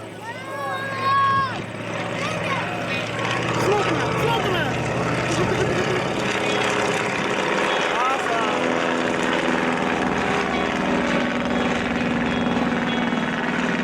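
Propeller aircraft pass at an air show, a steady loud engine roar with rising and falling pitch sweeping through as they fly by, heard alone without speech.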